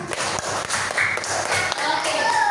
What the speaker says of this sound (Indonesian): Beri tepuk tangan buat kita semuanya.